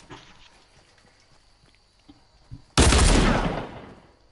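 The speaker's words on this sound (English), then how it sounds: "Why are you shooting me for?" Gunfire in a video game: scattered faint clicks and thumps, then a sudden loud burst of shots that roars briefly and fades out toward the end.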